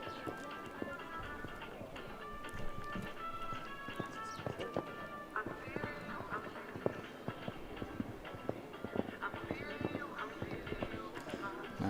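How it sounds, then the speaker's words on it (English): Horse hooves canter over a show jumping course at an FEI Jumping World Challenge qualifying competition, with steady rhythmic hoofbeats running throughout beneath continuous commentary and arena ambience. "lets the horse just skip along underneath him"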